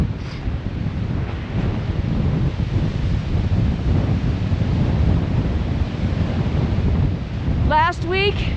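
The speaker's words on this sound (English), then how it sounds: "Not too bad a wind really here at the loch, between 20 and 30 miles an hour, looks like." Strong wind at a mountain loch in winter buffets the microphone with a constant low rumbling roar, and a brief whistling tone cuts through near the end.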